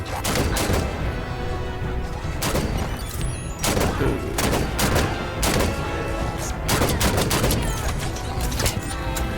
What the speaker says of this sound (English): Just let me shoot him off.